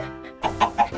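A video game chicken gives three quick clucks, close and fairly loud, over a low steady background hum.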